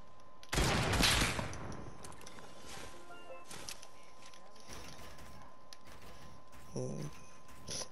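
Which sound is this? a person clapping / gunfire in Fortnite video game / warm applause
gunfire in Fortnite video game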